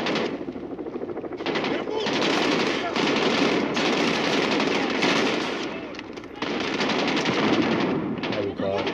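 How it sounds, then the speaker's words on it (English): Rapid automatic gunfire from the video game Call of Duty: Modern Warfare rattles in long, loud bursts with brief pauses between them, with a player's voice speaking now and then over the shooting. "Who's shooting?"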